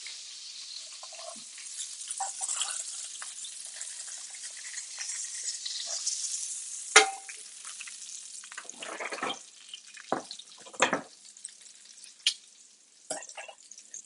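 Steak and sauce diablo simmering in a pan on a stove, a steady wet bubbling sizzle with scattered sharper clinks and stirring noises, close and moderately loud, no speech.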